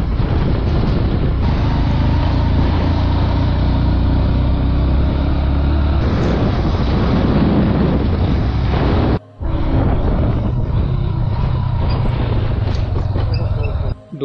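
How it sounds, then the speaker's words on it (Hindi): Loud rushing wind and road noise from a motorbike taxi ride on a mountain road in Nepal, steady and close for most of the stretch, with a brief dropout near the end. "अभी बाइक पे हूँ।"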